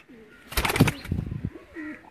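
A Tausi breed pigeon released into flight, a short burst of wing flapping close by, with soft cooing and bird calls around it.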